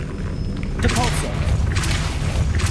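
A Depulso spell cast in Hogwarts Legacy produces a loud, low boom and thudding blast that rumbles on for a couple of seconds while a person talks over it.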